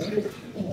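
Pigeons, male birds in a loft, cooing in low soft murmurs that swell and fade through a very short moment, with a faint voice underneath.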